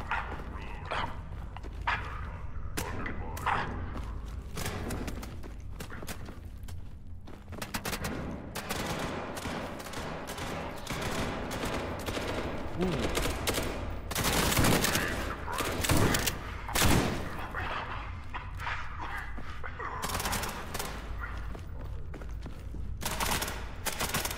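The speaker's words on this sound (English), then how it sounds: "Somebody shooting at me from down there." Enemy gunfire in a first-person shooter game, scattered shots and bursts at moderate distance mixed with game noise, ongoing over a busy, cluttered soundscape.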